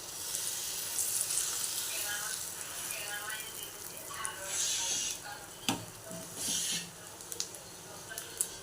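Mango batter for patishapta is stirred in a bowl, giving soft, wet swishing and scraping with a few sharper clinks of the utensil. Someone talks quietly over the stirring.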